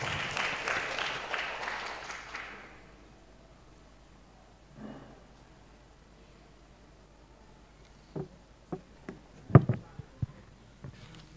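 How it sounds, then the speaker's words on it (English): An audience at a public discourse event applauds to welcome a speaker. A dense burst of clapping fills the first two seconds and then fades into quiet, followed by a few faint bumps and taps. "Ladies and gentlemen, please welcome her with our claps."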